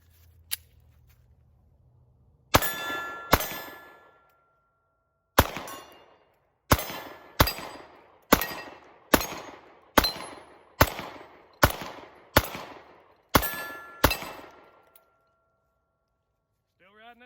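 A Springfield Hellcat pistol fires one magazine, about eleven sharp, loud, close shots in an uneven rhythm with brief pauses between, ending in quiet.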